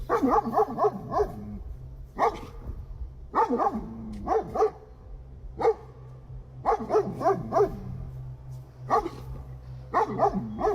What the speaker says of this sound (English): Tasha's dog Bella rushes towards him and starts barking in his face